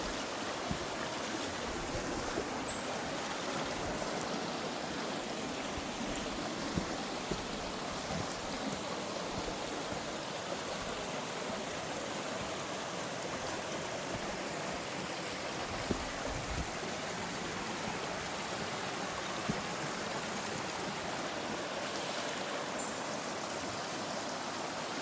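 Steady rushing flow of West Canungra Creek, a constant broadband wash of running water over rocks, close and continuous for the whole stretch with no voices.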